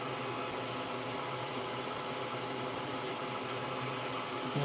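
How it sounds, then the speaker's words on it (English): A steady, dense roar from a Snapmaker Artisan laser engraver's fan runs without a break, broadband and constant, like a loud blower close by. "You can probably hear that fan roaring in the background."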